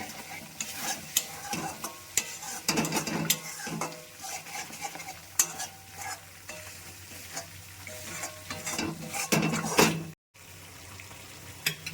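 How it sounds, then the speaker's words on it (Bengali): Masala paneer gravy with kasuri methi being stirred in a pan, a spoon scraping and clinking against the metal over a steady soft sizzle of oil, continuous and close with no talking. "এতে দিয়ে দিচ্ছি একটু কস্তুরি মেথি দিয়ে আবারও ভালো করে মিশিয়ে নেব"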